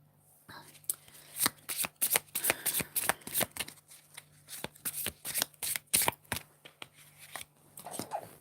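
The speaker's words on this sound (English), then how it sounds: "I hope I'll be able to shuffle more closer to the camera as we go" A deck of tarot cards is shuffled by hand close up, giving a long run of crisp riffling snaps in an uneven, repeated rhythm.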